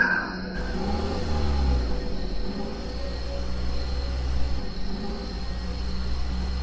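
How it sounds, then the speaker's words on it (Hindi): A car engine rumbles steadily at close range as the vehicle drives, with a low continuous drone and some rising revving, in a tense nighttime parking setting. "श्याम ने बिना कुछ सोचे गाड़ी थोड़ी दूर रोकी"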